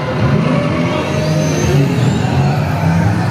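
A truck engine revving and roaring on a theme park ride at Universal Studios Hollywood, loud and close with a steady growl and rising pitch sweeps, no talk.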